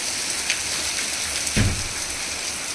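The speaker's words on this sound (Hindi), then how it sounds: "ये देखिए कितनी ज़्यादा बारिश आ रही है" Heavy monsoon rain pours down steadily outdoors as a continuous broadband hiss, with a brief low thump partway through and no talking.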